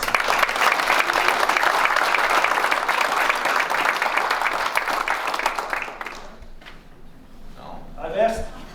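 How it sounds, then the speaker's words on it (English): Sustained applause from a banquet crowd, loud and steady for several seconds, then thinning out into scattered claps and a few voices near the end. "Let's give him a round of applause."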